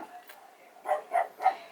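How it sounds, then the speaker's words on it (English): A dog that gets excited about squirrels barks indoors: three short, fairly loud barks in quick succession near the end, with a quieter yip earlier and faint room noise between them. "That's my dog."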